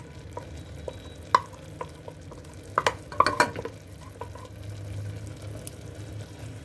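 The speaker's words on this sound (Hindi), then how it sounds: "और अब दोबारा इसको तब तक भूनेंगे जब तक कि इसका भी ऑयल सेपरेट नहीं हो जाता।" Onion, almond, cashew and milk paste frying in a pan for mutton changezi, with a low continuous sizzle and scattered scraping clicks of a spoon stirring, a cluster of sharper knocks in the middle, no talk.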